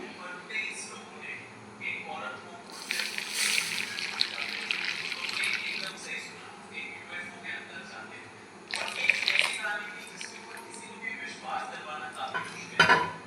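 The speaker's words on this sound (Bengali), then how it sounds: "এখন সবগুলো দুধ ঢেলে দেবো" Milk is poured into a pan of caramel for danadar rice sweets, with two bursts of splashing liquid and light clinks of cookware close by, under intermittent talking.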